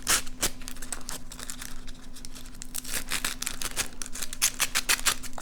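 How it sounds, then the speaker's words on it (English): A pin or scissors scratches across the back of gold lamé fabric, giving a quick run of crisp, close scraping and crinkling strokes with no talk over them. "get a pin or to get a pair of scissors and just give it a little scratch on the back"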